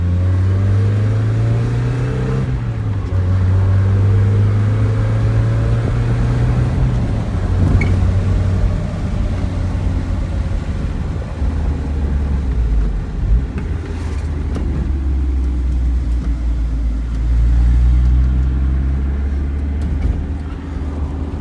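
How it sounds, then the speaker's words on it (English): A Mazda Miata roadster accelerates hard through its gears, the engine note climbing and dropping with each shift in a loud, continuous drone heard from inside the car. "let's go ahead and go through the gears right down through this straightaway here"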